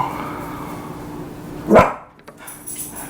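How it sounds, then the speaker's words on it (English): A single sharp dog bark cuts through a quiet room hum, loud and close, followed by a few faint knocks. "I'm gonna try to cut out as much barking as I can from the video."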